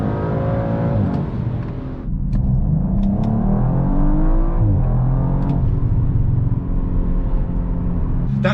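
A 2019 Audi RS5 Sportback's 2.9-litre V6 revs hard and climbs through the gears, loud and close, with brief gaps at the shifts and a steady rising drone.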